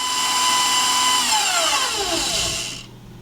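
An electric mixer beats chocolate Spartak cake batter at medium speed. A loud, steady motor whine runs close by, then drops in pitch and winds down to near silence at the end.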